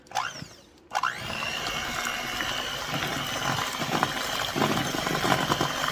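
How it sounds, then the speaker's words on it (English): An electric hand mixer runs steadily and loudly close by, with a brief stop and restart near the start, then a continuous whirring drone with slight variations. "So we are gonna take the good old hand mixer."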